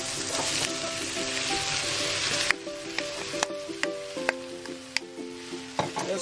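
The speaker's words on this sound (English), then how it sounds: "Now we're going to add our mushrooms now." Mushrooms hit a hot pan of onions and garlic and sizzle steadily for the first couple of seconds, then frying continues more quietly under repeated sharp scrapes and clacks of a utensil stirring.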